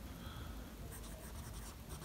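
A Bril Signature fountain pen with a number 8 fine nib writes on paper, making soft, faint scratchy strokes against a low background hiss.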